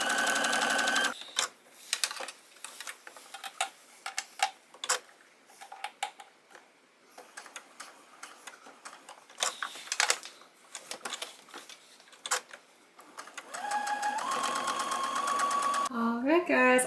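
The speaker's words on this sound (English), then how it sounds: "we're going to top stitch really close to this edge here all the way to here" Sewing machine top stitching close to the edge of a slip dress, running in bursts of rapid mechanical ticking with short pauses between runs, with a steadier longer stretch near the end.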